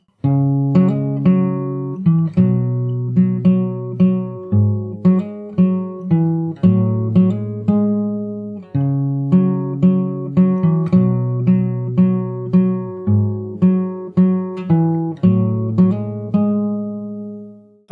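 Fingerstyle acoustic guitar playing the verse of a song, plucked chords and bass notes ringing in a steady, moderate rhythm, close and clear for eighteen seconds with no talking.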